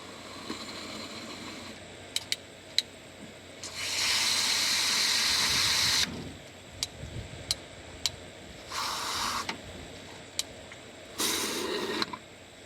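Bursts of hissing water rush through the cooling system of an old 1971 El Camino that sat for 24 years, coming in several loud spurts of a few seconds each, separated by quiet stretches broken by sharp clicks.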